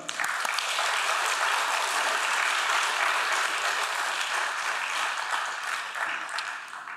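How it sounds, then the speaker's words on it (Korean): A church congregation at a Sunday morning service breaks into steady, loud applause to welcome the pastor, a thick continuous wash of many hands that tapers slightly at the end. "우리 목사님 나오실 때 큰 박수로 환영하겠습니다"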